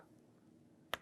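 A single crisp hand clap snaps out near the end over quiet room tone during a Buddhist monk's lecture at Gounsa temple.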